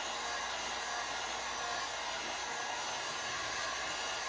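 Heat gun blows a steady, continuous hot-air roar while preheating paint protection film on a Ram Rebel, close and unbroken with no talking.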